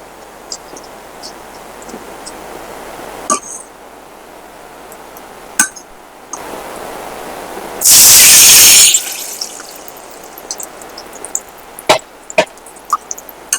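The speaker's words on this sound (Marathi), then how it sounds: "जिरं छान तळतळलं की चिंचेचा कोळ घालायचं" Cumin sizzles and crackles in hot oil with scattered sharp pops, then tamarind pulp goes in, setting off a loud burst of hissing that lasts about a second before the spitting settles back.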